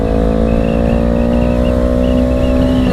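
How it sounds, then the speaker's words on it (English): A 2020 Honda CBR 500R motorcycle engine holds a steady, close drone with a slowly rising pitch as it revs, heard alone without talk. "I know how high the engine is sounding to shift"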